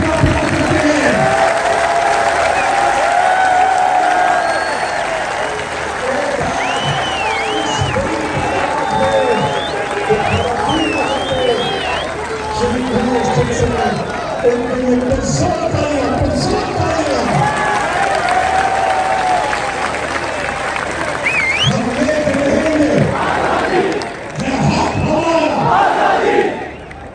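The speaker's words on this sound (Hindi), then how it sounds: "जरा हाथ उठाकर तालियों की गूंज में बताइए कि आप इमरान खान से कितना प्यार करते हैं।" A packed Lahore political rally crowd for Imran Khan roars with sustained cheering, chanting and applause, loud and dense throughout, with shouting voices rising and falling over the mass of noise.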